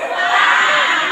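A crowd at a Maulid Nabi religious gathering loudly shouting amen in unison, a sustained, close, full-throated roar of voices that holds steady and then cuts off.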